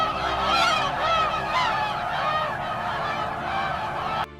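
Snow geese on the Western Hudson Bay nesting grounds honk loudly in repeated overlapping calls, a dense nearby chorus that carries on for several seconds before cutting off abruptly.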